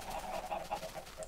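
Chickens cluck in the blocky video game Minecraft, a quick run of short, soft clucks in steady succession.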